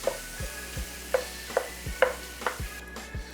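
Ground pork breakfast sausage is stirred in a frying pan with salt, giving a series of scraping strokes roughly every half second over a soft, steady sizzle.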